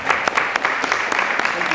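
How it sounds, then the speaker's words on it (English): An audience claps loudly and continuously in a hall, dense and close, with a voice carrying over the applause. "Please give them a big round of applause."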